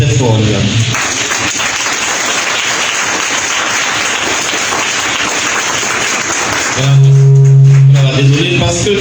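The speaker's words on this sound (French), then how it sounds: "est-ce qu'on peut s'applaudir très fort là?" Audience at a French-language mental coaching seminar applauds loudly in a dense, sustained wash of clapping for about seven seconds, then it stops abruptly and a voice follows.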